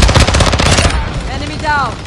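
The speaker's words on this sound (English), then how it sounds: "Stop shooting me!" Rapid automatic gunfire in a shooter video game, a loud burst of closely spaced shots lasting about a second, followed by a fainter tail and whistling ricochet-like tones.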